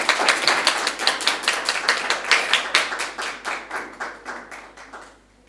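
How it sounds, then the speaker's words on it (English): Audience applause rounds off a Jamaican quiz match between the Ministry of Foreign Affairs & Foreign Trade and the Statistical Institute of Jamaica, a steady crowd of clapping hands that fades out near the end, with no talking. "A round of applause for them."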